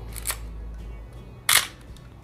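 Two crisp clicks of a Topcon Unirex 35mm film SLR's metal shutter, a softer one first and a louder, sharper snap about a second later, close up in a quiet space.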